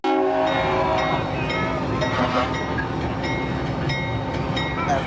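A locomotive pulling a train out of Pearland rumbles loudly and steadily, with horn-like tonal lines and metallic rail noise running throughout.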